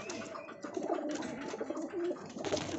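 Pigeons at a feeding spot with grain and water, giving low throaty coos and soft calls close by, continuous and alone without talk.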